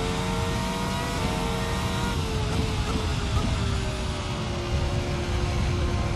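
A historic race car engine in a sim racing game revs and pulls down a straight with a steady, sustained drone rising slightly in pitch, continuous and fairly loud with no talking.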